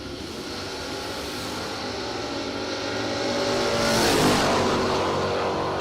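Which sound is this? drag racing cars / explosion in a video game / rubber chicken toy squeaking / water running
drag racing cars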